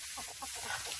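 A chicken clucks in a backyard coop, a quick run of soft, faint clucks over a steady hiss of background noise.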